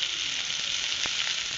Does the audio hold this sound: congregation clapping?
no